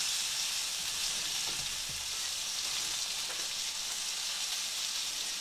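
Oil sizzles and crackles steadily with a dense, even hiss from fish frying close by for fish and chips, with no talking.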